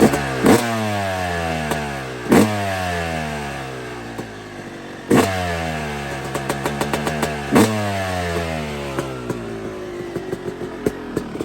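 A Yamaha YZ250 two-stroke motorcycle warms up on a cold day, idling with a buzzy, popping tone broken by several sharp throttle blips that rise and fall, close and loud.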